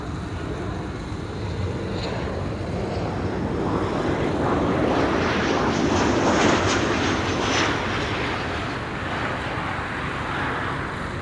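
A Transavia airliner at Amsterdam Schiphol passes with a loud, rushing jet roar that rises toward the middle and then eases off, carrying a faint whistling tone on top.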